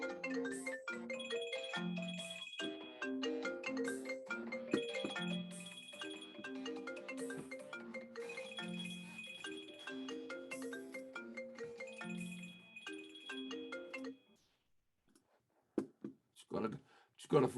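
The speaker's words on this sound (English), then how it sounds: "I've just got a phone call." A melodic phone ringtone from an incoming call plays as a looping chime pattern for about fourteen seconds, fairly quiet, then stops, followed by brief sounds of movement and a voice.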